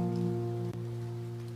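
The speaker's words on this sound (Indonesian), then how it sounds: "It's just overflowing from the rain." Steady rain pattering on surfaces with water spilling from an overflowing fountain in a garden in the video game Impostor Factory, a continuous even wash with a low constant hum beneath.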